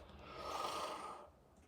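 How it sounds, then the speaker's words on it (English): A single long, breathy yawn, quiet and close, rising and then trailing off. "Oh, I always yawn for some reason."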